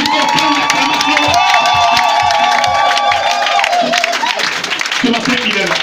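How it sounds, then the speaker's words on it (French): A church congregation cheers and applauds loudly, whoops and shouts mixing with clapping in a dense, continuous roar, while voices ring out above the crowd. "Est-ce que tu peux encore lui donner une grande acclamation?"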